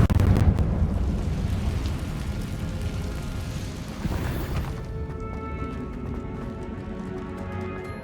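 Confringo fire spell blasting in the game Hogwarts Legacy: a loud, dense roaring rumble that holds steady, then settles into a softer crackling tail with faint tonal ringing.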